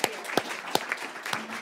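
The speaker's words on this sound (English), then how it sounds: "I think our panelists deserve a round of applause." Sparse clapping for panelists at a river briefing, a handful of distinct claps with soft applause between them, fairly quiet and brief.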